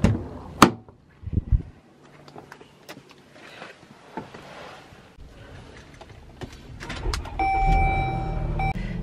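Someone gets into a car: sharp door thumps and handling clatter, then an engine starts and settles into a steady low idle, with an electronic chime near the end.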